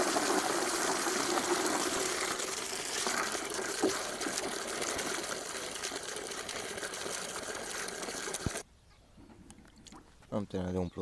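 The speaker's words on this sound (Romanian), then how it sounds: "O să merg să mai umplu găleata și revin." Water gushes steadily into a bucket being filled, a loud continuous rushing stream that runs for most of the stretch before stopping abruptly, followed by quieter handling noises.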